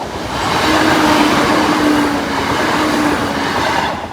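A train rumbles steadily past close by at Boultham Level Crossing, with a faint wheel squeal running under the continuous roar.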